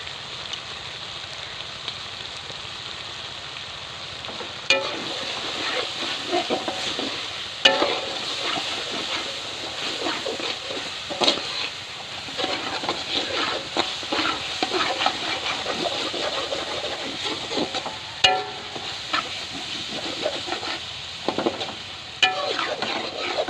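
Peas sizzle in a pan with spices and dry coriander powder for village-style matar pulao, a moderate, steady frying hiss broken by repeated stirring scrapes and clatters, close by with no voices.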